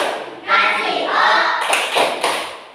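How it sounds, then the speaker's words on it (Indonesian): Students in a class performing the rhythmic 'tepuk wow' clap, a loud blend of group chanting and sharp hand claps in quick pattern, close and lively over under three seconds. "kita apresiasi kegiatan pembelajaran ini dengan tepuk wow, tepuk wow"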